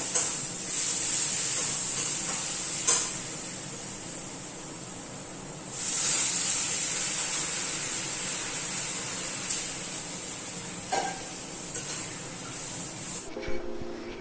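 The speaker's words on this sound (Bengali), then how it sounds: "মশলা কষিয়ে জলটা দিয়ে দিলাম" Water poured into a pan of fried spices makes a sharp, loud hiss that runs steadily for about thirteen seconds. It swells again partway through, then cuts off and leaves a faint clatter.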